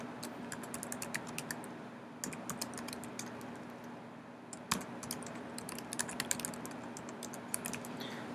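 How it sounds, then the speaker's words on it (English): Quick, uneven keystrokes on a computer keyboard while a website domain is entered, close and clear over a faint steady hum, with short pauses and a sharper key hit in the middle. "We're going to type in our website domain."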